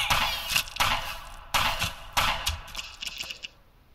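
Sharp gunshots in the video game GunBlood, a few loud cracks fired at uneven intervals, each followed by a brief ringing tail, ending in a short quieter patter of shots.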